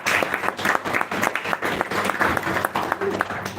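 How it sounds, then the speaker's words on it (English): An audience gives a short round of applause, lively uneven clapping that swells and dips with some indistinct voices mixed in. "Let's give him a round of applause."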